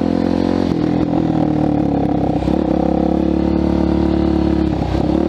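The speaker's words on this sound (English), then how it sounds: "My bike is totally sliding all over the place." A sport motorcycle ridden through mud on muddy tires, its engine droning loud and steady up close with a shifting pitch, clattering and scraping from the bike as it slides.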